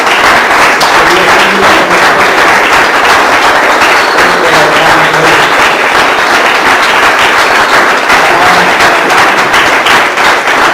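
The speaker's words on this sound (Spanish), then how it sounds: "démosle un aplauso ahora sí" A packed church congregation breaks into loud, sustained applause for the Lord during a communion service, a thick crackling roar of many hands with sharp individual claps poking through, continuous and close for several seconds.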